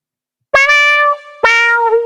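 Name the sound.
trumpet played with touch wah (auto wah) effect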